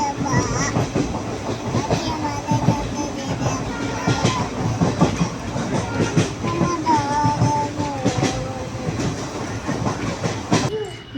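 A train rumbles along at close range with a loud, rhythmic clickety-clack of wheels over the rails and occasional squeals.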